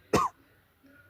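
A single short cough from a person who says they have a cough and fever, close and fairly loud, followed by quiet with a faint murmur.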